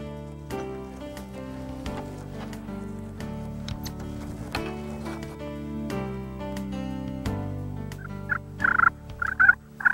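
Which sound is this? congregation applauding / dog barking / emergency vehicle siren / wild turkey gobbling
wild turkey gobbling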